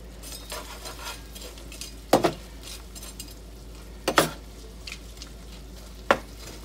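Minced garlic and chopped green onion sizzle softly in a pan on medium heat, a steady hiss broken by three sharp clinks of a utensil against the pan.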